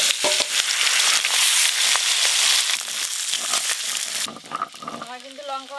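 Bhetki fish bones crackle and sizzle as they fry crisp in a pan, a dense steady hiss for most of the stretch before it thins out and a voice starts speaking over the quieter frying.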